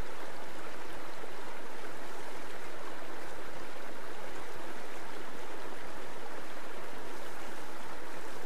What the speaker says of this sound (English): A rapid is a section of stream with swiftly flowing water and considerable surface turbulence.